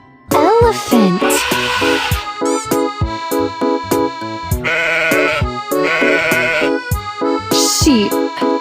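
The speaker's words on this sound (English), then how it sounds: "Sheep." Sheep bleat loudly and close by, repeating in a series of wavering calls. Short pauses come between the cries, and a few sharp clicks break in.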